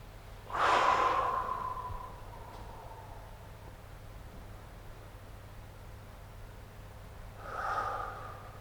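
A person breathing during a stretching exercise for back pain relief and posture: one strong breath near the start trails off into quiet, and a softer second breath comes near the end.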